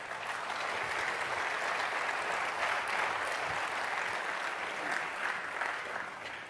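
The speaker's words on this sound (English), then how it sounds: "So, like, give a round of applause to Jaken, please" An audience at a hacker conference talk breaks into steady, dense applause, many hands clapping at an even level throughout with no voices standing out.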